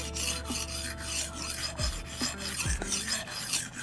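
A knife edge is honed with a few rasping strokes on a sharpener, producing close, scraping rubs in quick repeated passes.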